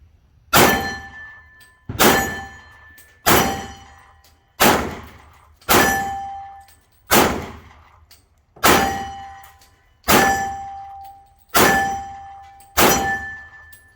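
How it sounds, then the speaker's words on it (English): Ten evenly spaced metallic clanks ring out, each with a sharp strike and a lingering tonal ring, as a Sig P229 pistol barrel is swapped from .357 Sig to .40 S&W, close and loud with no talking. "now we switch from the 357 Sig barrel to the 40 Smith & Wesson barrel"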